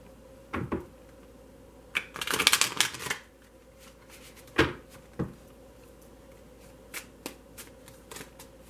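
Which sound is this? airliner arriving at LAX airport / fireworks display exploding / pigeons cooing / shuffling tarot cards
shuffling tarot cards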